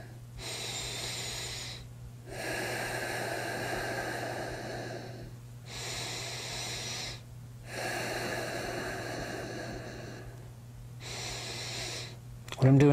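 Slow abdominal breathing is demonstrated up close: four long, airy inhale-exhale cycles with brief pauses between, steady and even, over a faint hum.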